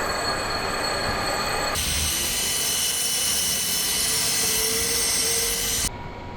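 A metal lathe takes a light skim cut on a homemade spindle chuck part, truing it to the bore, with a loud steady whine and a faint rising squeal. The hum drops off near the end.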